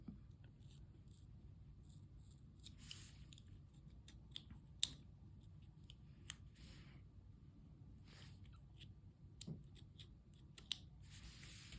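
Scissors snip around the white border of a clear planner sticker, a quiet run of small, sharp cuts and clicks spaced irregularly over a soft, low background hum.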